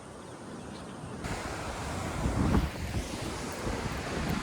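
Sea waves wash onto a shore under strong wind, a constant broad roar with rough wind buffeting the microphone and a heavier surge midway, with no voices.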